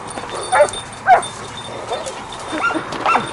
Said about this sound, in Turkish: Köpek var peşinde.